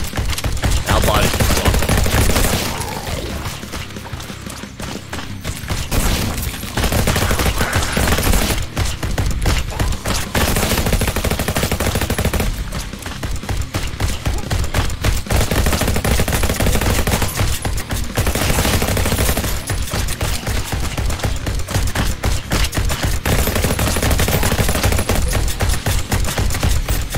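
Dense, continuous automatic gunfire from a first-person tower-defence shooter game, loud rapid bursts with only brief pauses throughout, no talking.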